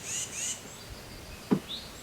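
Birds chirp outdoors, faint and somewhat distant, with a few short high calls near the start and end, a soft thunk in between, and quiet outdoor background.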